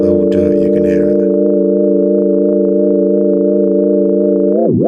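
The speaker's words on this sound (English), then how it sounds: "that's just the chord trigger on a sine wave and the sampler with a little bit of modulation on the LFO, on the pitch" A synth chord on a sine wave sustains as a clean, loud, steady tone with slight LFO pitch wobble, then bends sharply down and back up in pitch just before cutting off.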